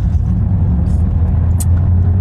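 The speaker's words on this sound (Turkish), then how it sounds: "Araba kullanalım." A car driving on a road during a driving-licence practice drive, a loud steady low engine and tire rumble close by, with a couple of brief higher squeaks and no talk.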